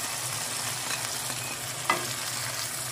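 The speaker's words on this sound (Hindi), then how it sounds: "अपनी जो फ्राइड अरबी थी वो इसमें डालेंगे" Fried colocasia (arbi) being stirred into a sizzling masala in a pan: continuous close frying hiss with scraping stir strokes and a brief clack partway through, no speech.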